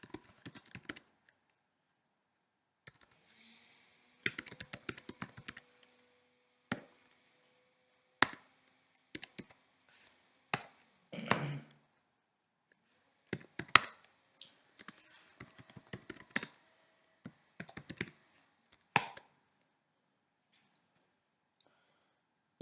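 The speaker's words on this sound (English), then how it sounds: "in the meantime I'm typing the next data load step" Typing on a computer keyboard during a TensorFlow coding lab: irregular bursts of crisp key clicks with pauses between, close and fairly quiet, no talking.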